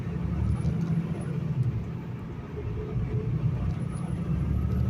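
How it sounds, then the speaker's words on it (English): Traffic sits backed up inside a road tunnel on a trucking route to Dallas, Texas, giving a steady, low, enclosed rumble of idling engines that holds evenly throughout with no horns or talk. "We're just sitting in traffic."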